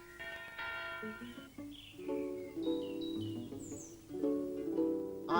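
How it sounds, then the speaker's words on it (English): Bright bell tones from a rope-pulled bell ring out in a melodic sequence of notes, clear and fairly close, with no talking. "I'm supposed to pull this rope and ring the bell."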